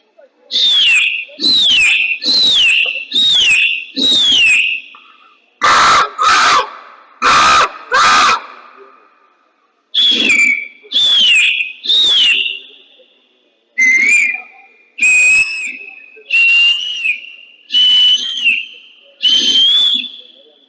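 A human voice imitating a yard full of chattering birds, delivering loud, shrill whistled calls in rapid repeated bursts with short pauses between groups, close and dominant throughout.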